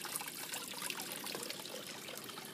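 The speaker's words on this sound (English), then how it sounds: "As always, I adore the sound of running water." Running water trickles steadily in a garden, a continuous close splashing babble with no voices.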